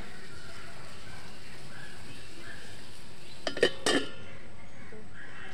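A metal lid clinks onto a cooking pot of mango sweet, two quick bright clatters in the middle of the clip over a steady, quiet kitchen background hum.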